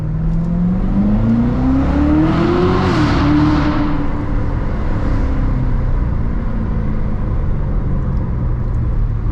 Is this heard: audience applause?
no